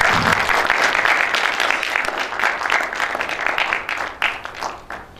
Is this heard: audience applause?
yes